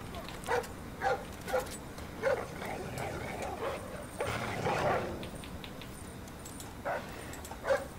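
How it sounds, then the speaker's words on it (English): Short dog yips and barks in the Splinter Cell: Blacklist video game come in a loose series of faint bursts over a steady game background. "Oh no, dog."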